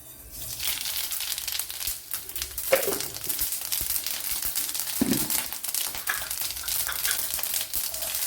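Mustard seeds crackle and splutter in hot oil in a Kerala-style pan, a dense continuous sizzle with scattered sharp pops, close and loud throughout.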